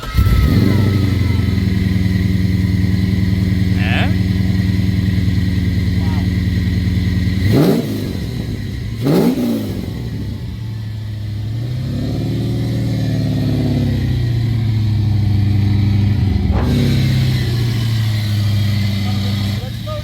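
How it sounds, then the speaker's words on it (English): A Nissan 240SX fitted with a V8 Corvette engine runs with a steady, loud low rumble, broken by sharp revs around the middle and again near the end, with a person talking over the idle. "It's been a long, long time since I've heard this car run right."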